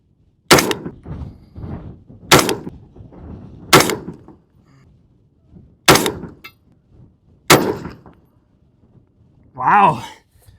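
Five sharp rifle shots from a PSA Sabre 10A1 forged .308 with a 16-inch barrel crack out at a steady, spaced rhythm on a windy range, loud and close, each with a short decaying tail, followed by a brief voice.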